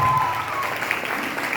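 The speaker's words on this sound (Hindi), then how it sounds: "मिस्टर आनंद कुमार के लिए जोरदार ताली।" An audience applauds in a steady, moderately loud wash of clapping for Mister Anand Kumar, with a faint background murmur and no voices standing out.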